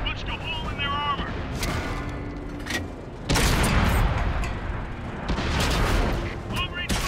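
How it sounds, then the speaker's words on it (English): Tank battle in World of Tanks brings booming long-range artillery fire, a loud heavy impact cutting in midway and rumbling on, with game voice callouts and radio chatter around it. "Long-range fire incoming."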